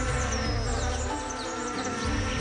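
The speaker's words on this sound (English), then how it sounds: "male orchid bees can travel up to 50 kilometers in search of these aromas" Male orchid bees buzz steadily in tropical forest, a continuous close insect drone with shifting whines as individuals pass near and away, no voices present.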